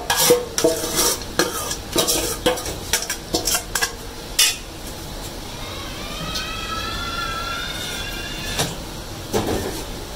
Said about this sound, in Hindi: प्याज टमाटर हरी मिर्च हमारे को अच्छे से भून चुकी है। और हम इसमें डालेंगे चिकन।